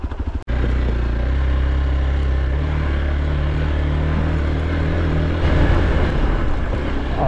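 A motorcycle engine kicks in after a sharp click and holds a loud, steady, rumbling throttle. The bike is riding off-road on the Karabel mountain pass, recorded up close with no voices over it.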